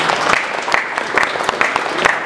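Audience applause at an Estonian automotive trades skills competition, steady loud clapping from a crowd with sharper individual claps standing out, sustained throughout without pause.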